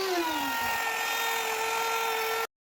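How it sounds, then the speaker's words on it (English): A power tool whines steadily as it trims the edges of a wooden basket-weave cutting board, a loud high tonal drone with a pitch that dips slightly early on, then cuts off abruptly. "Here Sung is trimming the edges of the board."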